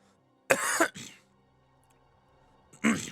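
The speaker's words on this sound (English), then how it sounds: "Why am I coughing so much?" A man coughs and clears his throat in two short bursts, one harsh pair of coughs near the start and another about two seconds later, close and loud against a quiet room.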